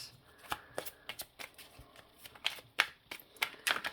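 A deck of tarot cards being shuffled and cut, with crisp riffling bursts and sharp card snaps scattered irregularly at close range, fairly quiet, with no talk.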